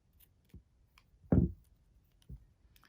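Scissors snipping yarn against a plastic craft mesh, three soft isolated cuts, the middle one louder and fuller, spaced by quiet pauses at close range.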